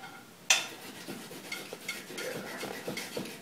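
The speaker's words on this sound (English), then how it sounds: "Then you mix it." Japanese-style spaghetti being mixed in a pan with the heat off, starting with one sharp knock of a utensil, followed by soft, irregular scraping and tapping strokes, close and fairly quiet.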